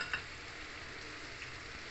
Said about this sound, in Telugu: చిన్న మూకుడు, అందుకని ఈ ఇతల స్టవ్ మీద ఈ నువ్వు పప్పు వేయించుకుంటున్నాను.